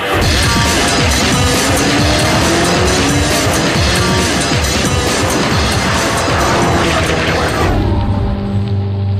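A Koenigsegg CC8S sports car accelerates hard, its engine roaring loud and close with rising pitch through the gears before the sound drops away near the end.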